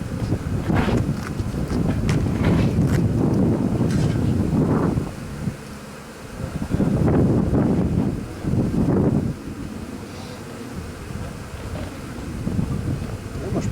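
Gusty wind buffeting the microphone in strong rumbling bursts that rise and fall outdoors during capture of a bee swarm on a farm trailer hitch, with a brief lull midway and no clear voices.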